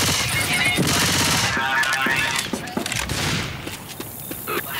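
Guns fire at zombies in Left 4 Dead, rapid loud bursts and repeated cracks through the clip, mixed with game clatter and a player talking over it.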